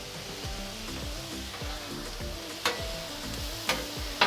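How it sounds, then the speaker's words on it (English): Onions sizzle on a hot Blackstone griddle for a chicken cheesesteak, a loud, steady frying hiss with a few sharp metallic scrapes and taps from a spatula near the end. "So we're gonna add some onions here."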